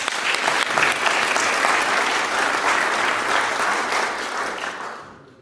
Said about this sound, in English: Please big clap for Jerry Sandhu